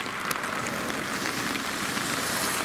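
Steady rain falls near an old abandoned tunnel in Shiga, a dense hiss of drops striking surfaces with occasional sharper splashes, continuous and fairly close throughout.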